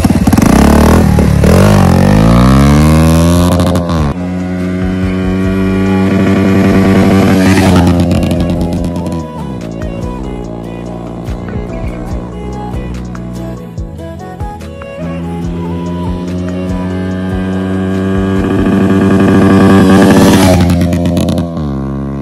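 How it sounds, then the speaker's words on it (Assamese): A motorcycle exhaust roars past in a flyby, loud and close, the engine revving up and falling away, then returning for another rising, rasping pass. "একজস্টৰ চাউণ্ডটো কেনেকুৱা লাগে ফ্লাইবাইত"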